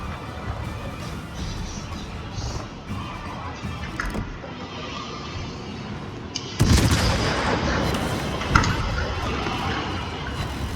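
Heavy cruiser Castilla's secondary guns firing in World of Warships, with a rumbling battle bed that swells into louder, dense booming bursts midway and one sharp blast near the end, no talk.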